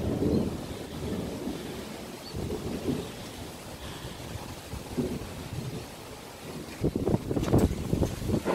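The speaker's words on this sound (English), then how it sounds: "Big thunderstorm coming." Thunder rumbles from a big thunderstorm amid rain and gusty wind buffeting the microphone, with low rolling swells that grow louder and busier toward the end.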